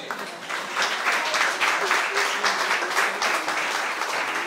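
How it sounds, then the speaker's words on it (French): Steady applause from a crowd fills the whole stretch, with many hands clapping together at an even, sustained level. "Put your hands together for Jesus."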